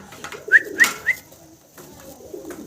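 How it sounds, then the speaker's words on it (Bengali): Fancy pigeons of black checker, grey bar and blue bar colouring coo nearby, a quick series of three soft throaty coos followed by quieter rustling and a low murmur. "ভিডিও স্ক্রিনে আপনারা সিঙ্গেল 3 পিস শৌখিন কবুতর এখানে দেখতেছেন, ব্ল্যাক চেকার, গ্রে বার এবং ব্লু বার"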